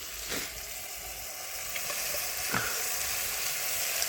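Prawns frying in a pan while being stirred make a constant loud hissing sizzle, broken by a few soft scrapes and knocks of the stirring spoon.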